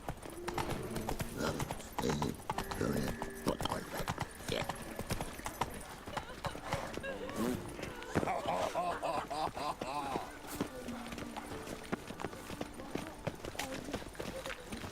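Horse hooves clip-clop at a steady quick rhythm in The Witcher 3: Wild Hunt, heard continuously and fairly close beneath ongoing character dialogue and game sound.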